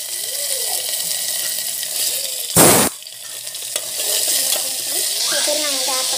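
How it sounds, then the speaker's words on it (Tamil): Chana dal frying with mustard seeds, cumin and garlic, a bright crackling sizzle with stirring, interrupted midway by one short loud burst of noise. "கடலைப்பருப்பு ஆட் பண்ணி நல்லா வதங்கட்டும்."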